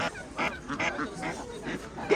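Ducks and geese at a poultry market honk and quack in repeated bursts, close and fairly loud, with market bustle around them.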